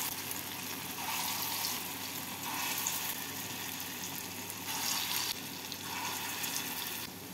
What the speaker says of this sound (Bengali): এবার ছোট ছোট করে ডাল বাটাটাকে দিয়ে বড়াগুলো ভেজে নিতে